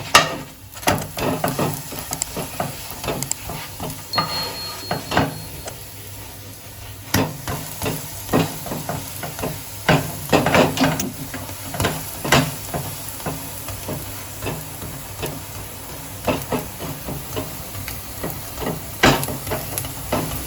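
A sago paratha fries in a pan with a steady low sizzle, broken by scattered clicks and taps of a spatula or utensil against the pan throughout.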